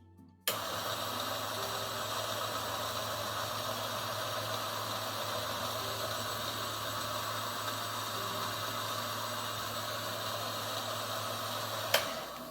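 A Niche Zero coffee grinder starts abruptly and then grinds in a steady, close motor hum and whir, running on its own. A brief click sounds near the end.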